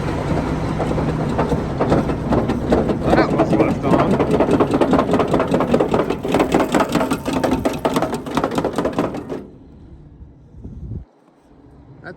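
A tractor engine with the PTO engaged runs in snowy winter fieldwork, a loud steady mechanical rattle and drone that cuts out suddenly near the end, leaving quiet.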